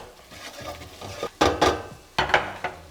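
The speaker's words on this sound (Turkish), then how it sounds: "Ununu ekleyip unun da kokusu çıkana kadar onu da kavuracağız." Flour is stirred and roasted with pepper paste in a pot for Turkish red lentil soup. A spoon scrapes steadily in soft strokes, broken by a few sharper knocks against the pot, with no voices.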